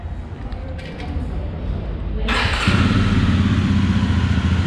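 A 2021 Jawa 42 motorcycle engine turns over and fires up partway through, then settles into a loud, close idle.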